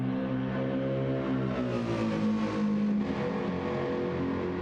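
Deep, bass-heavy car engine revving in Gran Turismo 7, a low baritone drone that rises and falls steadily through the whole stretch, loud and close with no talking.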